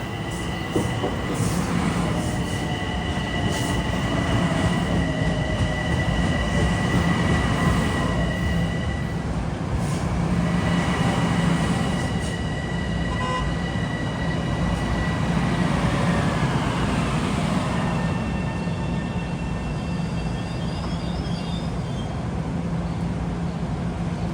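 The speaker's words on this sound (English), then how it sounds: "Arriving eastbound is 1462. It's a local from Grand Central to Great Neck." A Long Island Rail Road Port Washington Branch local train pulls into Great Neck station eastbound, a steady loud rumble of wheels and motors with faint squeals and clicks over the track, heard close throughout.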